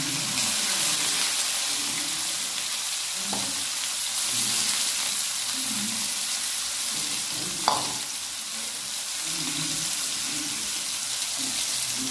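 Continuous hissing sizzle of bitter gourd frying in oil until crisp, with occasional spatula scrapes and a brief clink, no talking.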